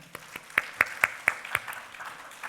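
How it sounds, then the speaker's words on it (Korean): Church congregation at a Sunday afternoon service applauding in a short burst of about eight or nine distinct, fairly sparse claps, moderately near, with no talk over them. "우리 힘내서 하시라고 박수 합시다."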